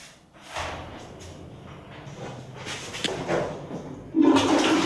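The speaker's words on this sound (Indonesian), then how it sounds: "Jangan lupa disiram, boy." A toilet flushing nearby, with a loud rush of water that surges and gurgles, then grows stronger toward the end, heard alone without talking.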